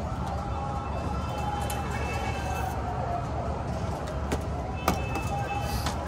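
Fire truck sirens wail at a distance outdoors near a bird loft, a steady wash of siren and traffic noise with a brief sharp knock partway through.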